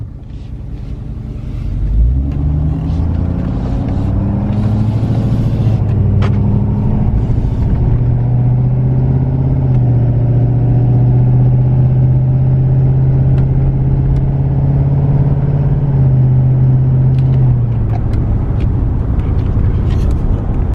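Ford 6.7 Powerstroke diesel truck fitted with an aftermarket air intake, heard from inside the cab: a loud, steady low engine drone that starts after a brief quiet moment and holds a constant rumble for most of the stretch.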